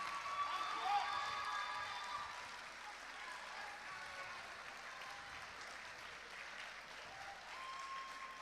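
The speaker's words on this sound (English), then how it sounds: "Keep the applause going, y'all." A film festival audience at Northern Caribbean University's Lignum Vitae Film Festival applauds an award winner with steady, sustained clapping that fills the whole stretch. A few faint voices sit beneath it.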